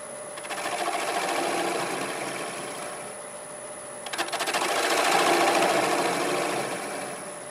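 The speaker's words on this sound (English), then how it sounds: "Just cut a little bit off of there with my half inch bowl gouge." A half-inch bowl gouge cuts a piece of wood spinning on a lathe, making a continuous close whirring hum broken by two swells of shaving noise, with no voices.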